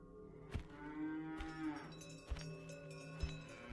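Cattle moo in several long, drawn-out lowing calls outdoors, fairly close and clear, with a few soft knocks between calls and no talking.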